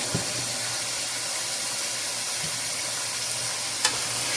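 Ginger garlic paste is stirred into meat frying in a pot for haleem, a constant close hiss and sizzle with a couple of faint knocks from the spoon and no talking.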